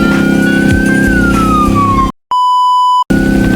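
A police siren from a video game wails with a rising and falling tone, steady and loud, then cuts to a sustained electronic beep before the sweep returns.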